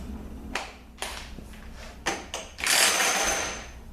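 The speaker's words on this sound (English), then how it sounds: "So let's get this flange nut off." A power tool works off a drive shaft flange nut on a Ford 6R80 transmission, with a few short sharp bursts followed by a longer, louder buzzing run heard close up.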